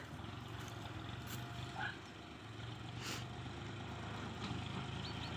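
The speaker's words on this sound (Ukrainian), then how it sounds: "Синій трактор їде до нас." A blue tractor approaches across a farm. Its engine is a faint, steady low drone in the distance, heard over soft outdoor background noise.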